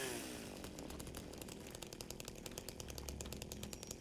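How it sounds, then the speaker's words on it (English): A chainsaw in the horror game Silent Hill 2 Remake, a loud continuous buzzing engine whine with a rapid rattling chain, steady throughout with no voices. "Dude, let's chainsaw some dudes."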